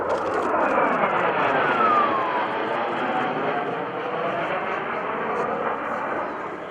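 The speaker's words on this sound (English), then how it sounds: "Watch them as they roll the aircraft on its back, throttles to idle. This is the Super Hornet's inverted whisper pass." An F/A-18F Super Hornet flies an inverted whisper pass at an airshow with its throttles at idle. A broad, steady jet rush holds at fairly constant loudness throughout, with a faint rising whine sweeping through early on and crowd ambience beneath.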